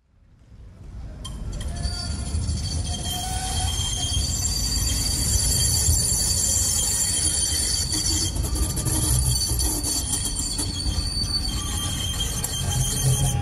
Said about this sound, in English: this crazy sound of the engines and train tracks of the tramway in Valencia